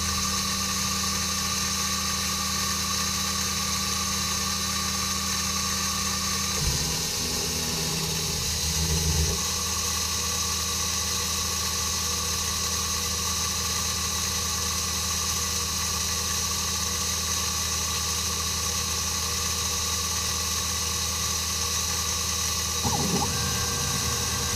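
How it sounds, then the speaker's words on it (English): A mini mill contour cutting quarter-inch steel plate with flood coolant, giving a steady mechanical drone with a ratcheting, geared quality, continuous and fairly loud throughout, with brief shifts around the middle and near the end. "I've got a quarter inch steel plate that I'm going to do a contour around"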